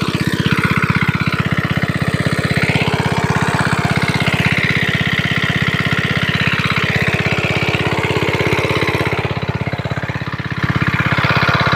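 An irrigation water pump machine engine runs steadily outdoors in a jute field, a continuous loud chugging drone with an even rapid pulse, close and alone throughout.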